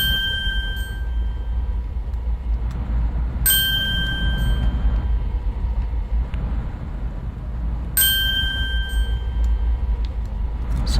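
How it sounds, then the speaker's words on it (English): Three bright, ringing chimes mark race gates activating in Disney Infinity 3.0, spaced several seconds apart over a continuous low engine-like rumble from the jet flight. "each of the gates activates the next one and makes a sound"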